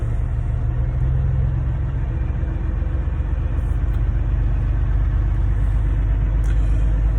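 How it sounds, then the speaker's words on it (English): A truck engine rumbles steadily as the vehicle creeps forward in a line of traffic, a constant, loud, low drone heard from inside the cab with no talk. "I'm moving the truck forward in line here."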